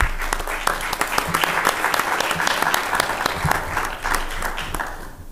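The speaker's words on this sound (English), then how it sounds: "So let's give them all a round of applause again, please." Attendees at a Village of Romeoville board meeting give a round of applause; brisk, closely miked clapping from a small room crowd, crisp and continuous before fading near the end.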